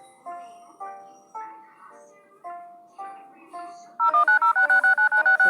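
Telephone keypad tones from dialing an emergency phone aboard an airplane: six evenly spaced single beeps, then a fast, loud run of rapid dialing tones, close and clear with no talk over them.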